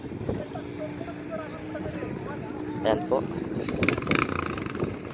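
Boat motors hum steadily on the water during a ride home, under nearly constant talk in Filipino, with wind and some rattling.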